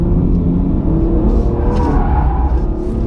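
A BMW M2 Competition drifting on a kart track, engine revving loudly and continuously with a thick low roar and slight tire-scrub texture.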